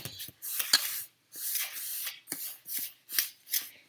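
A fork stirs cinnamon bread batter in a bowl, giving close, soft scraping strokes in repeated bursts with short pauses between them.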